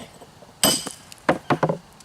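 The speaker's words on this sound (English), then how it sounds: "That's how they got all those chips in it, just like that. That's what you call facing or dressing a stone." Stonemason's hammer chipping at a block while facing or dressing stone: a sharp cluster of strikes, then a quick run of three or four more close, crisp knocks with clinking overtones, with no talk over them.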